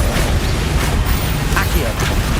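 Combat spells cast in the Hogwarts Legacy video game, a dense, loud burst of booming blasts and crackling magic rumbling together with voices running through it.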